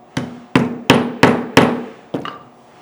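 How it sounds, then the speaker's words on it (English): Rawhide mallet striking a steel hole punch set on leather, six sharp, evenly spaced blows in quick succession, each with a short ringing decay, close and loud. "I'll use a rawhide mallet."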